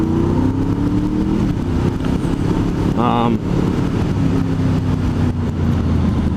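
A steady engine drone with a low, constant rumble from a motorcycle cruising at speed around Ames, Iowa, with continuous wind noise and a brief higher whine near the middle.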